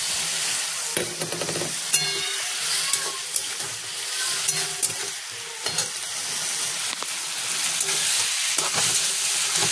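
Spices frying in oil in a pan while being stirred, a continuous sizzle broken by repeated scraping and clinking strokes of the spoon, close and fairly loud, with no talking.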